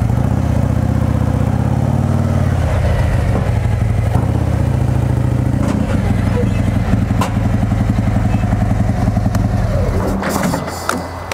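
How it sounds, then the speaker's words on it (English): Motorcycle engine idling and pulling slowly at low revs as it is ridden up onto a BikeNord trailer, a steady close rumble with slight throttle changes, and a voice talks over it. "Take your bike and you ride it up."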